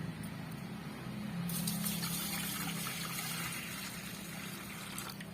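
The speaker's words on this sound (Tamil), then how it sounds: "இப்போ வந்து இதில் வந்து நம்ம தண்ணி சேர்த்துக்கலாம்" Water runs steadily into a mixing bowl for several seconds, a continuous splashing pour that grows slightly fuller partway through, with no voices.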